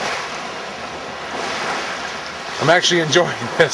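Short, frequent ocean waves wash onto an empty beach in a soft, continuous hiss with wind buffeting the microphone, and someone speaks briefly near the end.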